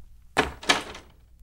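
A door closes as someone walks out, giving two close, solid thuds about a third of a second apart, each followed by a short fading rattle, then quiet.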